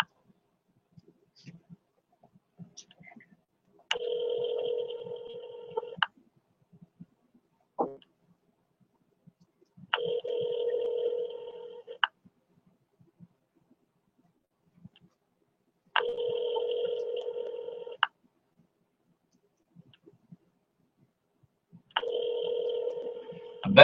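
Telephone call ringing out toward voicemail, four evenly spaced two-second rings separated by quiet gaps, heard through the handset alone with small faint clicks between.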